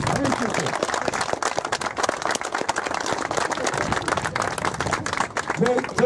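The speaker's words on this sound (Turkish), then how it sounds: "Bir alkış daha rica ediyorum." Crowd applause at a 30 August motorcycle club cortege in Silivri, steady dense clapping throughout with voices and cheering mixed in under it.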